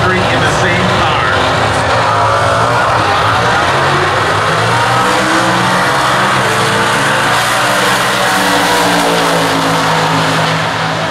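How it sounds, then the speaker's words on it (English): A 1967 Camaro Z28 drag car launches at a stock eliminator race at the U.S. Nationals, its engine roaring loud and continuous with shifting pitch, while an announcer talks over it. "wind up a 67 Z28, dump the clutch"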